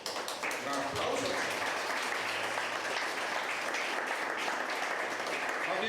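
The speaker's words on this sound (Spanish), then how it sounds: "Un aplauso." A dense, steady wash of church audience applause fills the clip, many hands clapping together at a constant level, with faint voices mixed in underneath.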